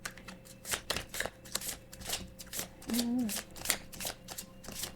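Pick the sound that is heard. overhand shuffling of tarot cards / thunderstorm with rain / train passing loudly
overhand shuffling of tarot cards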